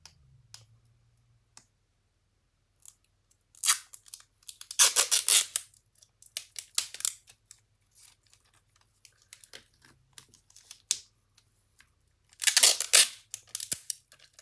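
Scissors cut through a paper skirt pattern in short bursts of crisp slicing and rustling, close and fairly loud, separated by quiet pauses and small paper handling clicks.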